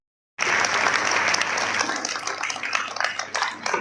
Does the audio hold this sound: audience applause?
yes